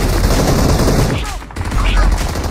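Loud, close bursts of gunfire in the BGMI mobile battle royale game, dense rapid shots that briefly thin out midway, then resume.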